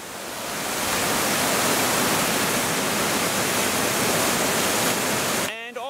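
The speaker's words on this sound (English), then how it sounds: "We've got a waterfall here." A steady, roaring rush of a waterfall in New Zealand's Nelson Lakes National Park fills the air, constant and loud from start to finish, cutting off abruptly at the end.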